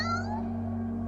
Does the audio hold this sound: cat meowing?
yes